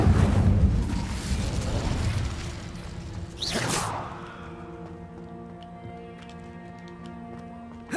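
A fire spell cast in the game Hogwarts Legacy: a broad whooshing burst that builds and flares, followed by a fading crackle and a lingering tonal hum.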